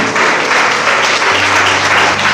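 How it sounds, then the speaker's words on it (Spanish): A church congregation gives dense, loud applause during a sermon, continuous clapping with no gaps throughout. "Denle un fuerte aplauso a Jesús."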